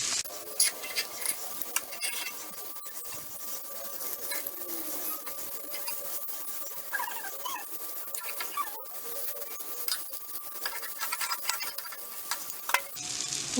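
Eggs cooking gently in a pepper masala over a low flame, with a soft, quiet sizzle and scattered small clicks and utensil ticks spread across the whole stretch.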